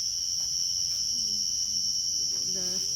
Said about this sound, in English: The cricket actually.